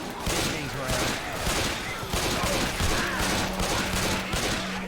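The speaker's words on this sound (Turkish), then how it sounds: "Bunlar hep tabancayla sıkıyor" Pistol gunfire in the video game Left 4 Dead 2, rapid repeated shots from several guns in quick bursts, loud and close, with a voice talking over the shooting.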